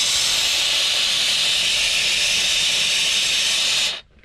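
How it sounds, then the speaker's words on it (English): A steam cleaner with a wand attachment sends out a loud, steady blast of hissing steam for about four seconds. The hiss then cuts off abruptly into near silence. "we're going to try to blast some steam on it and scrape it at the same time"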